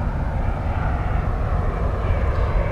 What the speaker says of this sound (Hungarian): Közben még szállnak le a repülők.